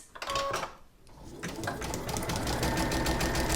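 A sewing machine stitches through a paper greeting card during Easter card making, a steady rapid mechanical whirr and needle chatter that starts and stops early, then runs continuously and loudly to the end.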